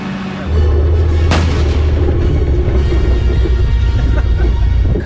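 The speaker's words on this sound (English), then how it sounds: "This is the only place in the world you can fire a Sherman tank." A Sherman tank fires its cannon on a Texas battleground with one sharp, loud blast, then a heavy engine rumble drones steadily underneath.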